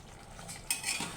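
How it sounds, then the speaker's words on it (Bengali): A spoon scrapes and clinks softly against a cooking pot while egg biryani with potatoes is stirred, a brief, faint clatter up close. "এখন ভালোভাবে নাড়ে দিচ্ছি।"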